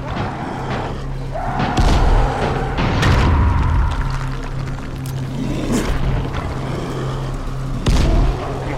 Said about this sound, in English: Throwing grenades at this guy.